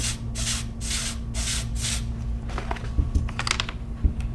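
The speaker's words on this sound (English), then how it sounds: "take a little spritz to lock that thing in." Several short, breathy hiss bursts from a spray bottle spritzing hair in quick succession, followed by softer rustling and light tapping sounds close by.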